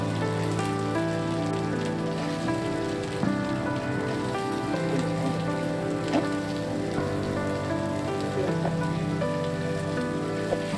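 Cut potatoes and vegetable stems sizzle and crackle in a hot pan with oil, fried with ground garlic, ginger and dried chillies, making a steady close frying hiss throughout with faint clinks over a continuous background hum.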